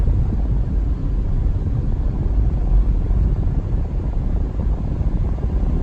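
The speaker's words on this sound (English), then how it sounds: "It seems to be driving fine. We're doing 40" Car driving along at 40 mph, heard from inside as a steady low rumble of engine and road noise with wind roar, constant and fairly loud, no talking.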